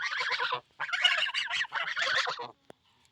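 Loud, close geese honking in repeated bursts, several birds calling over each other, then a brief pause before a short final call.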